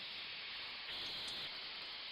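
A dry vapour steam machine blasts a continuous broad hiss while stripping labels, with a slight swell in intensity midway through and no voices.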